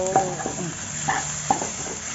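A spatula scrapes and clacks in a pan as vegetarian food is stir-fried with leaves added, giving a few sharp stirring knocks over a soft steady sizzle, with no talking.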